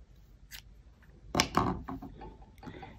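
Scissors snip excess yarn after finishing a crocheted cardigan sleeve, a few quiet close cutting clicks clustered in the middle of an otherwise hushed moment.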